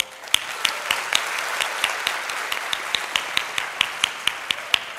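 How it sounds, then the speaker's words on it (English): Audience applause at the 22nd Aii graduation ceremony: a steady round of clapping with a fairly regular rhythm that keeps an even loudness throughout. "I would like to congratulate you all with another big round of applause"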